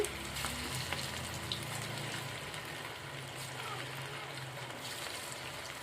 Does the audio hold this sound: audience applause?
no